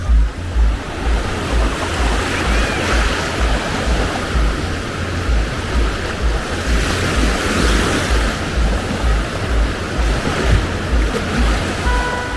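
Sea waves wash steadily onto a shore in northern Iran, a continuous broad roar with gentle swells and wind over it, fairly loud and close, with no talking.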